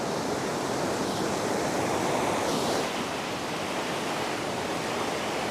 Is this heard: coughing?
no